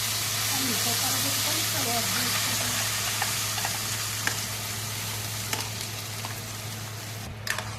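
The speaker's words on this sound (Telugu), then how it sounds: "ఇప్పుడు తెల్లగడ్డలు లైట్ గోల్డెన్ కలర్లో వచ్చే వరకు వేయించుకోవాలి." Garlic cloves and ground tomato chutney fry in a pan with a steady, soft sizzle, punctuated by occasional light clicks of a spatula stirring, while a low hum runs underneath.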